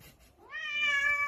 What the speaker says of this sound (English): This crazy attack cat.